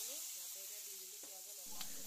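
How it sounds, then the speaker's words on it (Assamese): A steady, close sizzle of food frying in hot oil, with soft hissing throughout and faint tonal sounds underneath. "পিঁয়াজ নলাখিনি লাষ্টত ভাজিছোঁ"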